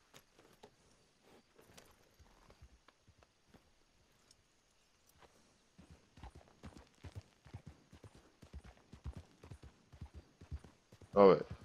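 Steady clip-clopping of horse hooves from a ridden horse in the Red Dead Online video game, faint at first and then louder and rhythmic in the second half, with people talking over it and a brief loud burst at the end.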